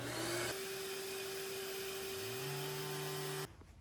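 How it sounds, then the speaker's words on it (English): A shop vacuum runs for dust extraction on a sander while an oak dining table top is sanded, a loud steady motor whine with pitch shifts that cuts off abruptly near the end, no talking. "I'm gonna kick the vacuum on and we'll get this thing started."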